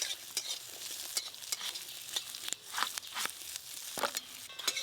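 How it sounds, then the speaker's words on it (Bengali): Dry red chillies frying in a pan for a village-style Bengali dish, giving a steady close sizzle with repeated scraping stir strokes and small crackles throughout, no voices. "একটু ভাজা ভাজা হয়ে গেলেই নামিয়ে নেবো, বেশি ভাজার দরকার নেই।"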